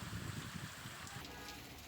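Heavy unseasonal pre-monsoon rain in Gondal, Gujarat falls in a soft, even hiss, with low rumbling wind underneath and no voices.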